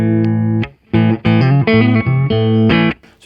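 An electric guitar plays through the clean channel of a Marshall Valvestate 40V 8040 amp with reverb off, ringing chords and single notes in short phrases, loud and close with brief pauses.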